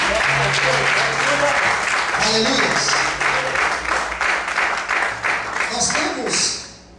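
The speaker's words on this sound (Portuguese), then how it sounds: "Desocupe a sua mão, aplaude o Senhor, glorifique a Deus" A church congregation claps in a dense, sustained round of applause while voices call out and a person speaks over it, the clapping fading away at the end.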